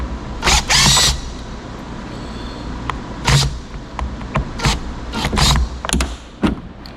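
Four Torx T20 screws being removed to take out a Jeep TJ subwoofer, heard as short bursts of ratchety creaking and mechanical scraping separated by pauses and clunks, close up.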